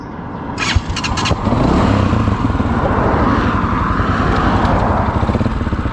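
A Tekken 200 motorcycle engine accelerating, with a few sharp clicks at first, then a loud, close, steady engine roar that holds and rises through the rest of the clip.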